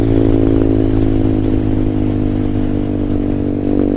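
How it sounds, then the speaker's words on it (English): Vader ZS190, a Honda Grom clone motorcycle, pulls hard in fifth gear at around 56 mph, its steady loud engine drone holding close and continuous with a layer of rushing wind noise. "I'm in 5th gear. I'm doing like probably about 56, 57. I twist the throttle and the thing just wants to go."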